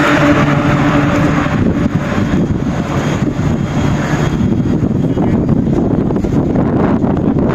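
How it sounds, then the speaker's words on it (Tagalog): Loud, steady roar of strong, cold wind with light snow buffeting the microphone in Rinku Town, Osaka, Japan, a continuous low rumble with no letup and no voices. "Lakas ang hangin, putya, lamig."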